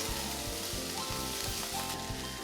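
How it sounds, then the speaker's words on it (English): Vegetables sauté in a pan for a short, even stretch of faint, close sizzling with a light crackle, and no voices are heard. "So we're just going to kind of saute this a little bit like this."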